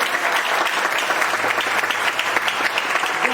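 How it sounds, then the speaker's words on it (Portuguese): Church congregation applauding steadily throughout, a dense, even wash of many hands clapping at close range, with no voices standing out above it. "Você pode aplaudir Jesus?"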